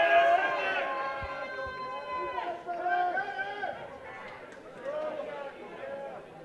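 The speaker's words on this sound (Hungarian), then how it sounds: "Hallgassuk a szegedieket is, hogy bíztatják a sajátjukat." Szeged handball supporters chant and cheer for their team in an indoor arena, a dense, steady wall of sung crowd voices with rising and falling waves and scattered claps.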